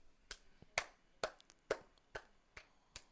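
Hands clap about eight times at a steady, fairly quick pace. The claps are sharp, crisp and fairly faint, with quiet pauses between them.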